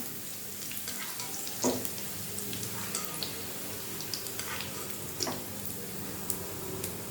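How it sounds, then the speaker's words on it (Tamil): Garlic and onion fry in sesame oil with a constant crackling sizzle, broken by sharp clicks and pops from stirring at close range. "பூண்டு வெங்காயம் பாருங்கள் இந்த அளவுக்கு பொரிச்சு எடுத்துக்கோங்க"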